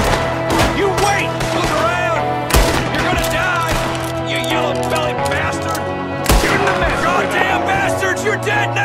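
Video game gunfire in Red Dead Redemption 2 during a snowy ambush shootout, several sharp shots cracking out at irregular intervals with shouting voices between them.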